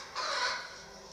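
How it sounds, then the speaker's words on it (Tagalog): A single brief chicken call, a short nasal squawk at moderate distance, rising and fading within about a second. "Andito pa yung manok."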